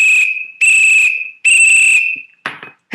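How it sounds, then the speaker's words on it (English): Three long, loud whistle blasts from a police officer's whistle at a city street intersection, followed by a short burst of shrill squeaky sound. "And I immediately blew my whistle."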